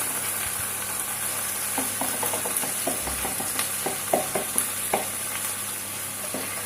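Liquid cream stirred into a pan of sautéed onions and olives, soft scraping and sloshing strokes under a steady low sizzle, with occasional clicks of the utensil against the pan.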